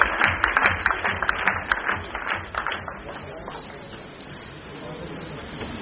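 Scattered applause from a corporate event audience, a few claps standing out near and fading over several seconds, with background murmur and voices underneath.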